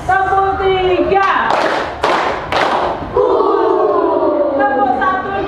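Schoolchildren in a classroom clap three times together as part of a clap routine, three crisp evenly spaced group claps between a woman teacher's talk and children's voices.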